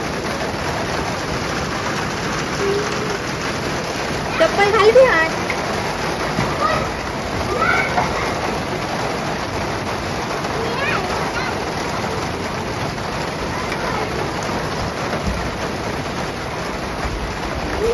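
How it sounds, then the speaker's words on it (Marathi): Heavy rain with large drops falls in a steady, dense patter throughout, with people talking nearby over it. "किती मोठे मोठे थेंब पडताय."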